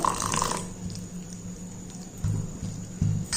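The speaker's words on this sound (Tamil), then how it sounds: "கொஞ்சம் நம்ம தண்ணி ஊற்றிக்கிடுவோம்." A short burst of water pouring and splashing into thick ragi dosa batter, followed by quiet low thumps and soft stirring sounds.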